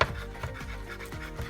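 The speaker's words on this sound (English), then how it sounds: "chop them up" A knife chops mushrooms on a chopping board, giving a quick series of close, soft taps with no voices.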